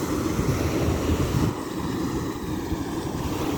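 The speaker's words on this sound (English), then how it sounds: "I haven't seen the Atlantic Ocean in so long" Atlantic Ocean surf at Blowing Rocks washes steadily against the shore, a dense, loud roar with wind buffeting the microphone.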